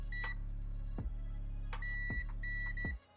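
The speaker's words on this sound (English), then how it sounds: "There we go. It beeps now." A new multimeter on continuity test sounds a steady electronic tone, cutting in and out in several beeps over a constant low hum, with sharp clicks as the probes touch.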